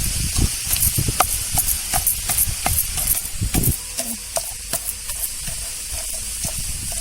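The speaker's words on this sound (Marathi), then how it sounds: "असा एक खरडा बारीक करायचा फुलपात्रानं" Green chili kharda is pounded and crushed with a metal cup, giving quick, rhythmic knocks and thuds close by for several seconds that then ease into softer, sparser taps and scraping.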